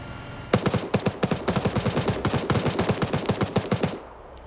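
A long burst of rapid automatic gunfire in a military video game, loud and close, with evenly spaced shots rattling for about three and a half seconds before stopping abruptly.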